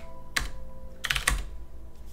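Keystrokes on a computer keyboard entering a terminal command for a NixOS rebuild, in short bursts: one quick cluster, a pause, then two more close together, fairly near and clear.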